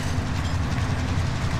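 A train rolls along in Call of Duty: Warzone, a loud continuous low rumble with steady rhythmic rail clatter, close and without talk.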